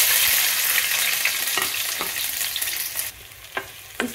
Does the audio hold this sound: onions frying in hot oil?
yes